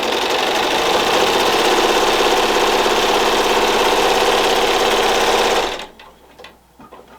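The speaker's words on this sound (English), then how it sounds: "And we're just going to sew all the way down." Sewing machine stitching a straight quarter-inch quilt seam along a drawn line, running loud and steady with a fast, even mechanical whir for nearly six seconds before stopping abruptly, leaving only faint room noise.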